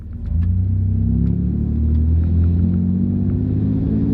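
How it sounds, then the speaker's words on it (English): A Pontiac Firebird engine idles smoothly with no rattle, a close, steady low rumble that stays even throughout, marked by a few faint ticks and no speech. "Now we're just sitting there idling, really. For one of these Firebirds, it's not rattling at all."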